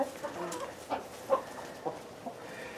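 Chickens on a winter homestead cluck in short, separate bursts close by, several soft calls spaced across a few seconds with no voices over them.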